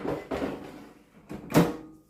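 Plastic drawer of a Ninja Double Stack XL air fryer sliding shut, a few soft scrapes followed by one firm close thud, near and alone in a quiet kitchen.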